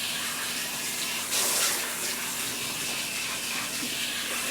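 Water running steadily from a tap while hair is rinsed with cool water during a hair-colour treatment, a continuous close hiss with a brief louder splash.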